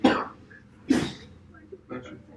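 Two sharp sneeze-like bursts in a classroom, about a second apart, close and fairly loud, followed by softer throat noises and quiet talk.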